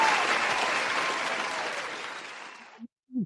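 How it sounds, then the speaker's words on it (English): A crowd bursts into loud, dense applause that gradually thins and cuts off abruptly, followed by a brief bit of a voice. "Round of applause, family."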